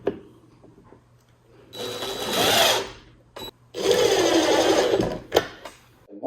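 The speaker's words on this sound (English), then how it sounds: "And so we'll go ahead and screw this in." Power drill driving screws into a van kitchen cabinet, two loud sustained whirring bursts separated by brief pauses, with short clicks and knocks between them.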